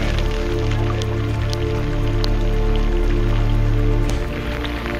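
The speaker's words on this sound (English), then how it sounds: "Starting to rain. It's getting heavy." Rain falls outdoors on an evening paddle near Cotterstock, a steady close patter with scattered louder drops striking nearby surfaces throughout.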